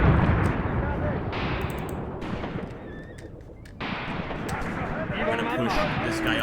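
Gunfire in Graviteam Tactics: Mius Front as a gun fires on enemy tanks, with booming shots and blasts spread through the clip and someone talking over most of it.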